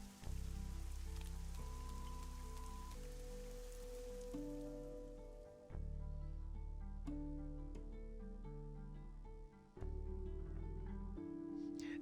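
Steady rain patters as a soft, even hiss through a video game scene, running the whole time beneath sustained music tones and a few sharp clicks.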